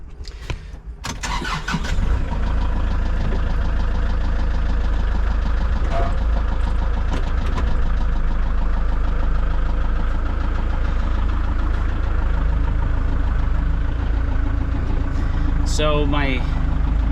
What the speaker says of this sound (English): my tractor was a pretty much a nice purchase for the addition of our homestead and our farm